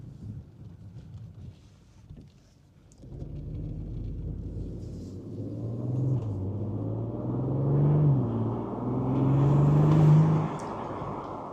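Engine noise from a BMW X3 M40i or Audi SQ5 SUV swells from a low cabin rumble into a rising, droning whoosh under acceleration, growing louder before easing off, with no talk.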